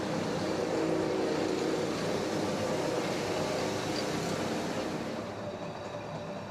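A steady, rumbling roar of a Jungfraubahn train running through a tunnel in the Eiger rock face, Switzerland, a continuous broadband drone that eases slightly near the end.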